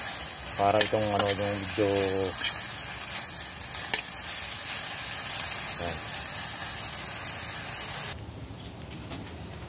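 Food sautés in a pan with a light steam hiss, a steady close sizzle running throughout, while a voice talks briefly over the start before it quiets.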